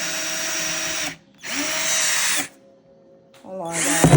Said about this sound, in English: So let me grab my drill and we can get going.